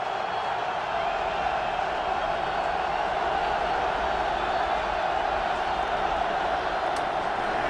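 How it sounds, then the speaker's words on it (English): Stadium crowd roaring at a Packers versus Eagles NFL playoff football game, a dense, sustained, distant-sounding wash of cheering that holds steady throughout. "This crowd is alive"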